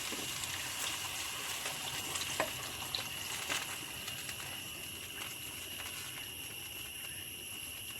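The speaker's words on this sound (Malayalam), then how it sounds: "നമുക്കിതിലേക്ക് കുറച്ച് വെള്ളം ഒഴിച്ച് കൊടുക്കാം." Water is poured into a pan of carrot curry, giving a faint, steady hiss and splash with a few small clinks over low background hum.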